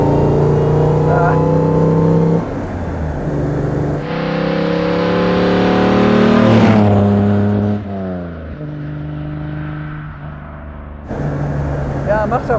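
A 1954 Mercedes 300 SL Gullwing on the move, its engine note rising and falling through revs and shifts amid wind rush, with someone talking over it.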